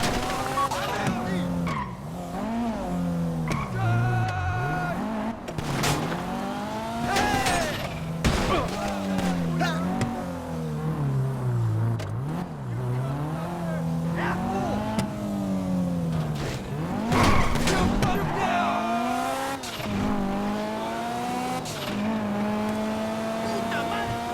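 A car in a video game heist mission drives with a steady engine drone, repeatedly revving and squealing its tires in skids throughout, with a voice talking over it.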